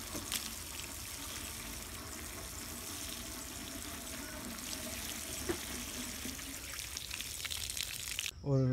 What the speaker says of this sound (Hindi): कुछ इस तरह मैं इसको पानी दूंगा।